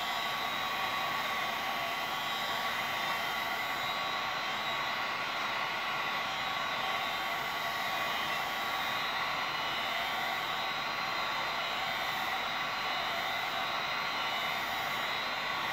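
A hot-air tool blows a steady, even whooshing hiss for the whole stretch while heating a plastic cosplay helmet visor, close and constant with no talking.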